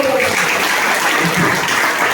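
Church congregation clapping together, a dense, loud, continuous burst of applause filling the room.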